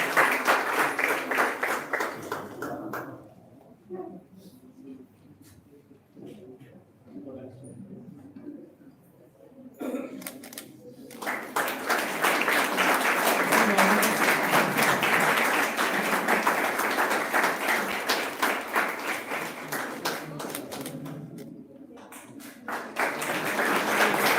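A big round of applause rises from a conference audience at a university event on business resilience, loud and sustained in two long stretches with a quieter lull between, with voices audible through it.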